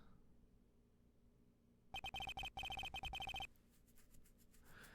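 An emergency telephone in the Ace Attorney Trials and Tribulations video game rings in a loud electronic trill, repeating in quick pulses for about a second and a half before cutting off, with a quiet background on either side.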